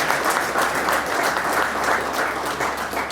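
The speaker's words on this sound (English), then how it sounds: "How about a round of applause for Cody Anderson and Mike Hansen" A crowd at an MMA weigh-in gives the fighters a dense, continuous round of applause, loud and even, many hands clapping together without a break.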